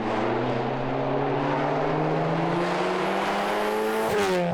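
Very loud exhaust of a Volkswagen Mk7 GTI: a close, droning engine tone rises steadily under acceleration, then drops with a sharp shift near the end, with no talking.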